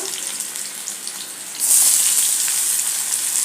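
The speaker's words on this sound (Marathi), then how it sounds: "तो तेलात घालूया कांदा एकच घेतला आहे आणि तो व्यवस्थित परतून घ्यायचा आहे" A loud, steady sizzle bursts in about halfway through as a chopped onion hits hot oil for Kolhapuri mutton rassa, replacing a quieter kitchen hiss and continuing strongly to the end.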